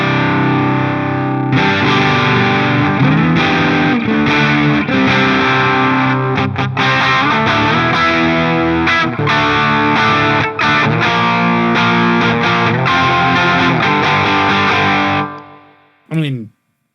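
Electric guitar chords played through AmpliTube 5 amp simulation with a distorted tone and chorus-like shimmer, ringing, sustained strums close and loud, fading out near the end with a brief final chord.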